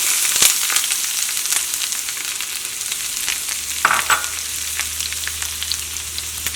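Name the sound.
curry leaves and chopped onions frying in a pan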